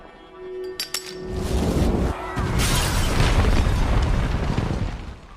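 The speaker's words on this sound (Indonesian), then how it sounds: "Dan seketika meledak." A loud explosion in The Last of Us bursts out and rumbles on with a long roar of debris and crackle, preceded by brief clinks and a low hum.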